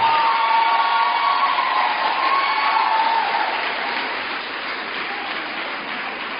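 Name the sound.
audience applause welcoming a speaker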